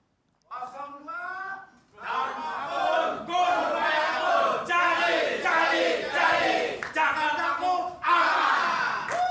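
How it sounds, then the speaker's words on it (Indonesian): Supporters of a vice-governor candidate at a televised political event chant yells in unison, a loud rhythmic crowd chorus in repeated bursts with rising and falling voices. "Saya ingin mendengar yel-yelnya dulu untuk, dalam tanda kutip ya, pasukan pendukung calon wakil gubernur nomor urut 2,"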